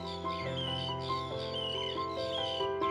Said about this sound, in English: The young Puffin and Guillemot kids are making one heck of a noise in the rock aviary.